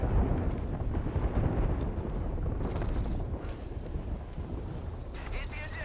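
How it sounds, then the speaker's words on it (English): Video game airstrike explosions, a heavy rumbling roar of blasts with low booming energy fading over several seconds, with faint voices under the noise. "Yo, we got an airstrike coming down."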